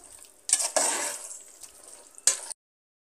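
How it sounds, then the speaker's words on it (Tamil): Mutton frying in a pan for biryani, sizzling steadily with bursts of stirring and scraping, moderately close and with no voices. "நல்லா ஒரு அஞ்சு நிமிஷம் நல்லா வதக்குங்க"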